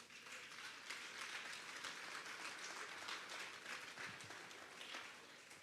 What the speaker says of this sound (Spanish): Vamos a darle un fuerte aplauso al Señor.